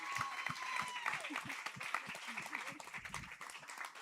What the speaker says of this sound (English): Everyone, one more big round of applause for Morgan Eckroth.